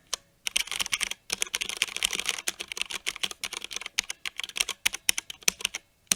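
Fingers type on a Drop Alt 65% mechanical keyboard in quick bursts of crisp, clacky keystrokes with brief pauses between runs, close to the microphone and alone.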